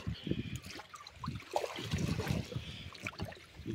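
Water from a hose splashes and trickles unevenly into a tilapia fish pond nearby, gurgling softly with irregular spurts and faint background noise.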